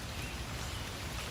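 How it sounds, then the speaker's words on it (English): Outdoor rain falls steadily and heavily with no breaks, a dense hiss spread evenly across the whole moment, close and moderately loud. "The rain is starting to really come down"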